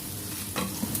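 Garlic sizzles and fries in a pan while being stirred, a close, steady crackle with a few scraping stir sounds.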